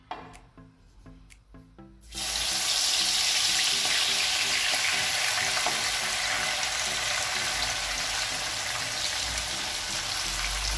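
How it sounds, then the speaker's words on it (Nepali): Gundruk, fermented leafy greens, hits a hot pan and erupts into a loud, dense sizzle that holds steadily after a few quiet taps at the start. "अब यो गुन्द्रुकलाई पनि म फ्राई गर्नु गइरहेछु"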